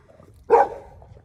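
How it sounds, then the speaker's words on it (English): A single dog bark sounds close and fairly loud, a short burst that tails off into a quiet room with no one talking. "Because his barking doesn't sound vicious."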